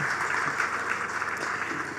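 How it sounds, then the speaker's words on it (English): Steady, dense applause from an audience at the outdoor launch of the One Family Programme in Golden Square Freedom Park, following a song; continuous clapping with no talk over it. "One more time, ladies, a round of applause."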